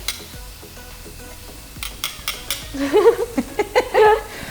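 Food sears in a pan during a kids' cooking session as tongs clink and scrape against the metal, producing a few sharp knocks then a run of sizzling, stirring clatter in the second half, close and moderately loud.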